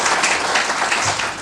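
An audience at a Jai Bhim Mission talk claps, a dense wash of hands that stays at an even level for about a second and a half and then eases off slightly.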